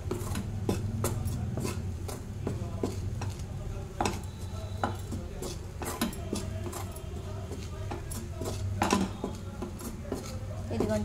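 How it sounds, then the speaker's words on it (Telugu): Besan (gram flour) is stirred in a pan over a low flame for laddu, giving a steady run of scraping and clinking strokes of a metal spoon against the pan, close and fairly loud. "ఇలా కలుపుతూనే ఉండాలి, ఫ్లేమ్ స్లిమ్లో పెట్టుకోవాలి"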